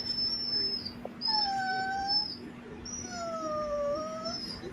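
A dog whimpers in a few drawn-out, high-pitched whines, fairly close, over a steady low hum and faint room noise, with no talking.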